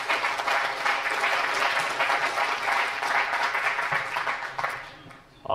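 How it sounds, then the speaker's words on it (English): Audience applause at a business growth event fills the room in a dense, steady roar of many hands, holding strong before tapering off near the end. "let's give him a round of applause, thank you."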